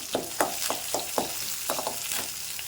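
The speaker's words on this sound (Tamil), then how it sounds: "ஒரு வரமிளகா போட்டுக்கிறேன் வெங்காயம் போட்டுக்கிறேன் கருவேப்பிலை போட்டுக்கிறேன் போட்டு நல்லா வதக்கலாம்" Dried red chili, onion and curry leaves sautéing in a pan for a white pumpkin dish, a soft continuous sizzle with a few quick stirring scrapes, close by.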